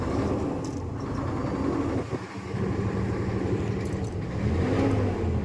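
An Isuzu 6WF1 CRDI diesel engine with a low-power fault, running steadily at raised RPM, a dense close rumble holding level with a slight dip midway.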